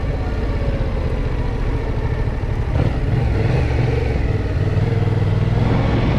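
Motorcycle engine during slalom practice for a riding test, a steady close rumble that swells briefly with a short acceleration, then settles back to a running idle with a clattery mechanical texture.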